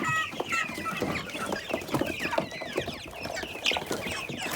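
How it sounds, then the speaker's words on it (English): Chicks from four merged groups cheep and cluck continuously in a shed, a dense busy chorus of many small birds close by. "we have just merged all 4 groups of chicks"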